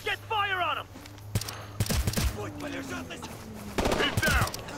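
Bursts of gunfire from the video game Ghost Recon Future Soldier, set in Russia's Caucasus, with sharp single shots and rapid volleys mixed with game sounds while players shout commands.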